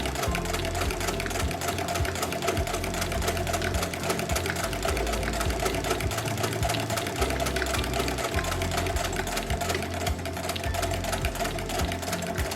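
Sewing machine stitching a straight line along a French seam, a steady close mechanical whir with rapid needle chatter running continuously and alone throughout.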